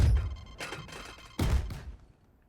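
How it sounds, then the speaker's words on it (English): A Raze grenade thrown in Valorant on the Ascent map, a thumping burst followed by two more sharp blasts, close and punchy, fading out within a couple of seconds. "then simply just throw your nade"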